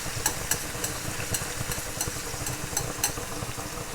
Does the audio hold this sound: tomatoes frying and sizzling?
yes